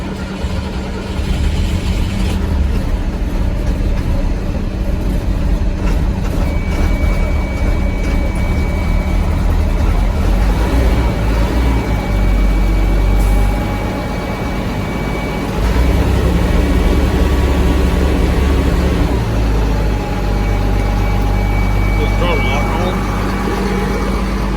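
A fleet vehicle's engine cranks over slowly in a cold start, then settles into a steady, loud low-frequency running rumble that continues throughout, with a whine layered on top.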